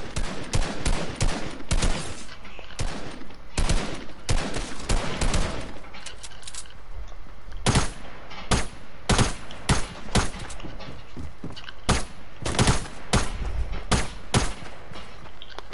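Gunfire rings out in a building video game battle, sharp repeated shots in irregular bursts and rapid volleys over about fifteen seconds, loud and close.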